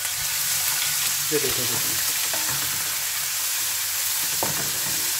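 Onions, cumin and ginger garlic frying in oil for a pea pulao, a dense steady sizzle with a few soft stirring scrapes, and a voice briefly speaking over it.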